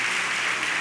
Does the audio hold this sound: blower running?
no